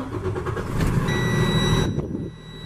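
A 2012 Freightliner Business Class M2 106 truck with a 10-speed Eaton Fuller manual gearbox and 248,609 miles starts up close by, a loud rumbling crank and catch with a whine, then settles to a lower idle.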